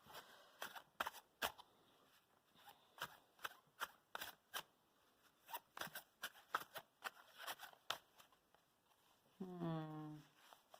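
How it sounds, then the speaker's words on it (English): An Illuminated Tarot deck by Caitlin Keegan is shuffled close by, giving sharp, crisp card snaps and riffles in irregular bursts, with a brief voice speaking at the end. "I'm gonna shuffle some more cards for you."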